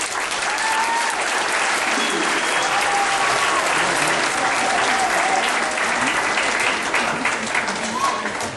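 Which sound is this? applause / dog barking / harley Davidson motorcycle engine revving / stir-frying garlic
applause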